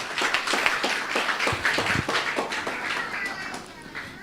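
Crowd applause for maestra Nang at a church mission service in Bonaire: dense, steady clapping with voices mixed in, fading slightly toward the end.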